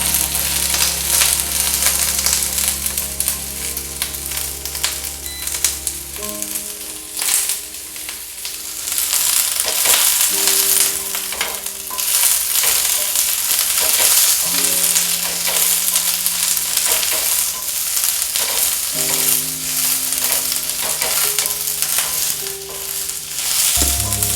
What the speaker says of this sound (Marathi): थोडंसं तेल टाकायचं, कांदा भाजून घ्यायचा.